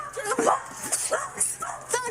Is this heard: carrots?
no